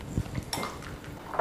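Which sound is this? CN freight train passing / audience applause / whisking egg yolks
whisking egg yolks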